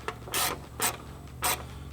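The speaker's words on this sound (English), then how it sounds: "you use a 4mm Allen" A 4mm Allen key tightens fender liner hardware on a Nissan Frontier, three short scraping, ratcheting strokes with small pauses between them.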